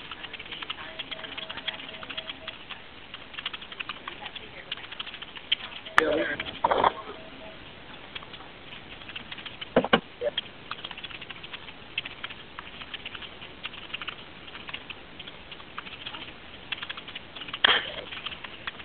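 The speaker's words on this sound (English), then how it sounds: "I'm just typing this all in really quickly." Quick, light clicks of a computer keyboard being typed on, fairly faint, with a voice talking at times.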